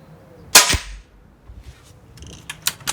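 An Air Arms HFT 500 .177 PCP air rifle fires one sharp, loud crack up close in a garden. A few fainter clicks and knocks from handling follow.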